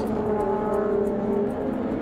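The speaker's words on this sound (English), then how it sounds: "the Motul car, just look at the way it just accelerates past the Prius and the R8" Motul-liveried race car accelerating hard past a Prius and an Audi R8, a steady loud engine drone with rising harmonic tones held throughout, no talk.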